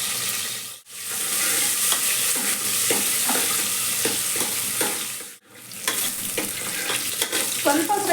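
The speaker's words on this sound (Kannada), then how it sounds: "ಎಣ್ಣೆ ಬಿಸಿ ಆಗಿದೆ. ಈರುಳ್ಳಿ ಹಾಕೋತಾ ಇದ್ದೀನಿ." Chopped onions fry in hot oil for a keema sambar, a steady bright sizzle broken by two brief pauses and punctuated by light stirring scrapes, close and continuous with no talking.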